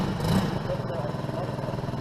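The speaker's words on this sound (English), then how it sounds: "Rev it up." A motorcycle engine idles and revs under a bridge, a steady pulsing mid-range throb with a brief rise in revs early on, close and moderately loud, with a voice speaking over it.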